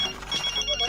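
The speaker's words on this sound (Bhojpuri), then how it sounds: "किसका फोन आ गया?" A telephone rings once in a short burst, fairly close and clear, with no talking over it.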